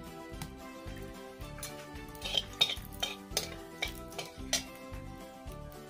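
Turmeric powder frying in mustard oil in a pan for a fish filling, heard as a soft sizzle with intermittent stirring and clinks of a utensil against the pan, faint and close.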